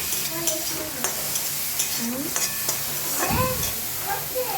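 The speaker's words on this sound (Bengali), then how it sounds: "কাঁচা লঙ্কা আদা বাটা অ্যাড করলাম আবার ভালো করে আমি নেড়ে চেড়ে নেবো" Mashed boiled potatoes with ginger and green chili paste are stirred for vegetable chops, giving close scraping and squelching strokes over a continuous background hiss, with a few brief tonal squeaks.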